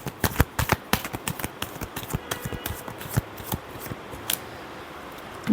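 Tarot cards being shuffled by hand, a quick run of crisp riffling snaps and rustles, close and alone with no voice.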